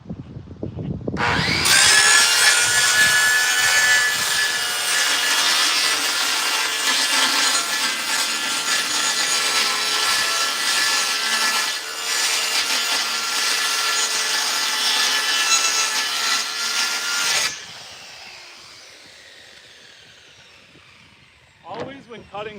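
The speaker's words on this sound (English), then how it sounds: "Always when cutting plywood with a skill saw," A skill saw cutting through plywood, a loud continuous whining rasp that runs steadily for about fifteen seconds up close, then winds down and stops, followed by a brief knock.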